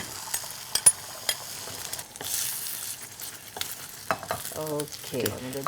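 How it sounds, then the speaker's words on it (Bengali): Beaten eggs fry in a pan with a soft sizzle, punctuated by sharp spatula clicks and scrapes, with a brief tonal sound near the end. "এখন নর্মাল আমরা যেভাবে করে ডিম ভাজি জাস্ট ওভাবে করে ভেজে নেব"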